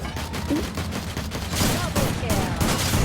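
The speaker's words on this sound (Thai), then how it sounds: "อย่าหยุดยิงทุกคน ต้องยิงให้กระสุนหมดไปข้างหนึ่งนะคะ" Rapid gunfire bursts from the Free Fire video game crackle densely one after another, close and loud. A voice talks over the shooting.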